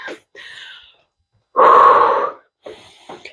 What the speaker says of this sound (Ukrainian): Активно дихаємо.